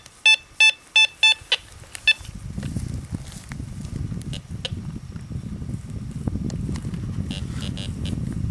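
Teknetics Eurotek Pro metal detector beeping on a target, a quick run of five or six sharp, evenly spaced electronic tones up close, then rustling ground noise and digging scrapes for the rest.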